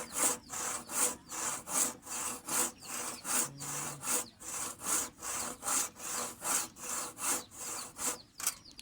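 A hand saw cutting through hard tamarind wood in a fast, regular back-and-forth rhythm of rasping strokes, close and fairly loud, with no talking.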